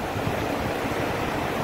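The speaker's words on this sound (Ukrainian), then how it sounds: "водопад в місті Сколе на річці Опір" A small, roughly one-metre waterfall on the Opir River in Skole rushes in a steady, dense broadband wash of falling water, close and constant with no pauses.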